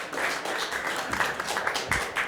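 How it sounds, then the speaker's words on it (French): A French game-show audience applauds as a contestant is brought on, a moderate, continuous patter of many hands with a few sharper claps standing out. "Que Louis me soit apporté sur un plateau d'argent et applaudit"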